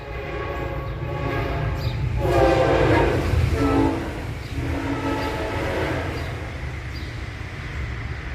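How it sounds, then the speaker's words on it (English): A passenger train coming from Manhattan rumbles past with a steady low roar and clatter, swelling louder midway before settling, with a faint horn-like tone in the mix. "we're getting a sound appearance of the train. And it's coming from Manhattan."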